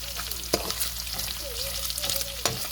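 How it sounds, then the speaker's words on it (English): Hickory-smoked everyday bacon renders in a pan with a dense, continuous close sizzle and crackle, marked by a couple of sharp pops or utensil taps over the steady spitting. "All right, so our bacon's about halfway rendered."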